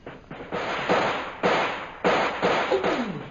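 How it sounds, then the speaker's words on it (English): Gunfire in a radio drama, a series of sharp cracking shots, about five bursts in quick irregular succession, loud and close with brief tails. "We'll start firing again."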